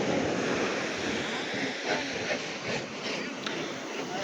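Sea waves wash steadily onto rocks along a coast where small boats are anchored, making a continuous rushing surf hiss with soft surges and no voices.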